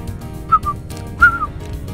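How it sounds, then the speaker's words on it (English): A person whistles at fish while playing Top Angler, a PS2 fishing game, giving two short bursts of clear, close, rising and falling whistle notes over quiet game background. "Whistling at fish again."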